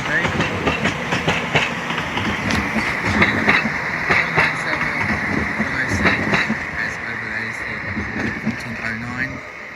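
Avanti West Coast passenger train on the London Euston to Blackpool service, running through Crewe station on the West Coast Main Line; a steady close rolling rumble with rhythmic wheel clatter, a voice talking over it.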